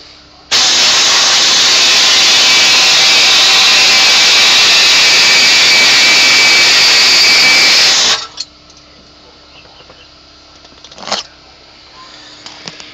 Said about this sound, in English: I'm gonna let the compressor beef up a little bit and let it shut off